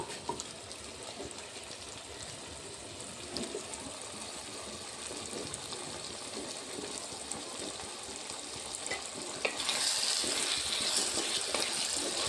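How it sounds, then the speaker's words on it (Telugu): Ginger-garlic masala paste sizzling in hot oil with tomatoes and onions for an egg and tomato curry, a steady close, busy crackle and hiss that swells brighter near the end, no talk. "పచ్చి పచ్చివాసన పోయేంత వరకు నూనెలో ఇలాగా మసాలాని మగ్గని మగ్గనిస్తారు"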